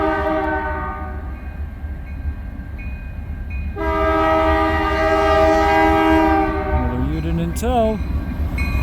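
CN freight locomotive 5421 arriving northbound at Ladysmith, Wisconsin, its multi-tone horn sounding in long loud blasts over the rumbling engine, the pitch bending as it passes close by, with someone speaking briefly.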